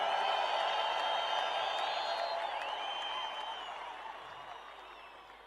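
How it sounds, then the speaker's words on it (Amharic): A church congregation claps and ululates in praise during gospel singing. The dense applause mixes with high trilling cries and fades gradually across the stretch. "እንደገና ለእግዚአብሔር እልልታ ጭብጨባ ሃሌሉያ"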